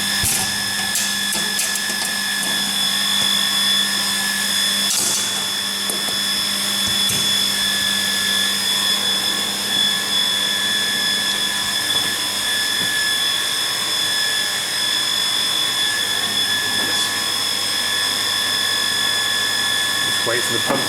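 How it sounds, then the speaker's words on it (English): Washing machine agitator running in a steady, continuous mechanical drone with a whirring, ratchety texture and a few brief clicks, fairly loud and close throughout. "That's the agitator."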